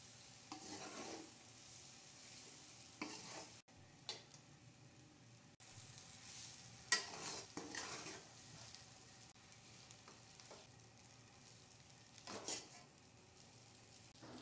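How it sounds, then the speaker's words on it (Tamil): Egg noodles tossed with egg-coated vegetables and stirred in a pan, a steady frying hiss broken by repeated scraping strokes of the spoon, fairly quiet and with no talking. "நல்லா கிளறி விடுங்க."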